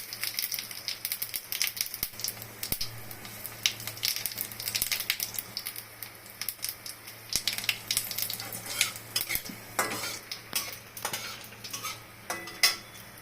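Cinnamon and whole cumin crackle and sizzle in hot oil for Katla fish kofta curry, with soft irregular pops and occasional utensil clicks, steady and moderately quiet with no talking.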